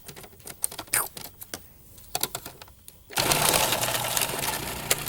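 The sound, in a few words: food processor grating onion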